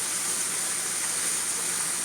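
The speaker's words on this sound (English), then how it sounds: "we're not frying this. We're steaming it" Salmon steaming in a wok with a little grapeseed oil, giving a steady, even hiss that runs unbroken throughout with no talking.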